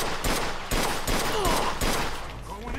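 In the video game Mafia II, a semi-automatic gun fires a series of sharp, loud shots, spaced irregularly at about half-second to one-second intervals.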